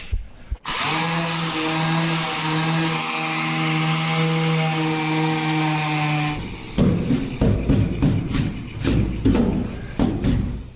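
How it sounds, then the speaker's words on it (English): A power sander works over a dried, painted budget exo cage: first a steady, high, droning whine, then rougher, choppy grinding bursts as it bites into the surface. "I just need to go ahead and sand it down"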